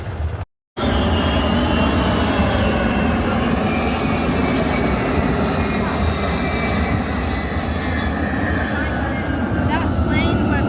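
A jet airplane flying over a beach air show, a loud sustained engine roar that fills the whole stretch after a brief gap near the start.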